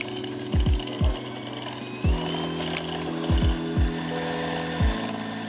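A steady electric hand mixer whirs continuously through ladyfinger sponge batter for tiramisu, with several brief low knocks as the beaters bump the bowl, and no talking.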